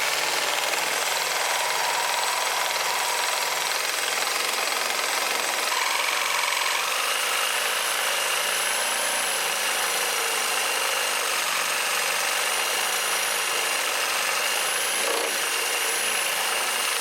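A power tool cutting off a steel shifter linkage bracket during a VK56 engine swap into an S14, a sustained harsh whine with shifting high pitch as the blade bites, steady and loud with no talk.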